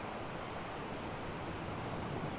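Cicadas drone in a steady high-pitched buzz, faint and continuous, with no other sounds over it.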